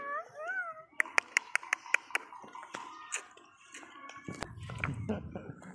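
A cat meows a few times at the start, followed by a rapid series of sharp clicks and taps, then soft rustling and brief quiet voices.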